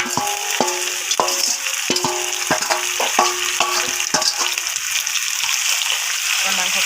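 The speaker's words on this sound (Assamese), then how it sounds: "মাংসখিনি ধুনীয়াকৈ ভাজিব লাগিব।" Duck meat frying in hot oil, a steady loud sizzle broken by repeated scraping clinks of a utensil stirring the pan at an irregular rhythm, close up.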